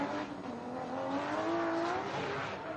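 A BMW drift car driven by Michael Essa roars through the start chicane at Formula Drift Irwindale qualifying, its engine loud and close, rising and sustaining in pitch with a faint edge of tire squeal.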